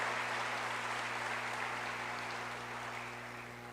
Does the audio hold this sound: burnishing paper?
no